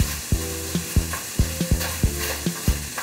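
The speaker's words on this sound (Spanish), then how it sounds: "Y ahí empezamos a mover, no dejamos de revolver la preparación, es muy importante." Beef and vegetables stir-fry in a hot wok with a steady sizzle, while a spatula strikes and scrapes the pan in a quick, regular rhythm of sharp knocks, close and fairly loud, with no talking.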